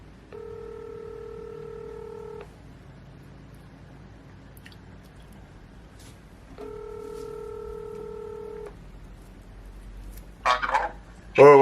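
Touch-tone keypad dialing while a desk phone is tested: two steady, moderately loud DTMF tones each held for about two seconds, separated by a pause, over low room hum, with a brief rustle at the end.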